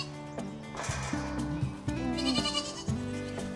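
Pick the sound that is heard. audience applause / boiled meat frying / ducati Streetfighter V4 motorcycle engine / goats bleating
goats bleating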